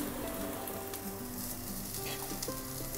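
Vegetables for poha sizzle in a pan on a low flame, making a continuous close crackle with faint stirring and no voices.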